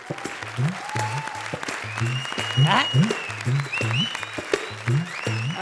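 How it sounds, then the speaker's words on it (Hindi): Steady applause with many hands clapping, heard under ongoing speech and loud music with a repeating rhythmic beat. "जोरदार तालियां"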